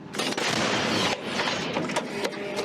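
Rapid, loud bursts of heavy gunfire crackle and boom in quick succession, artillery and mortar fire going off continuously at close range in a war zone.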